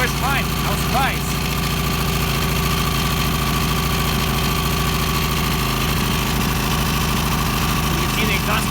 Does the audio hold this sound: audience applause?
no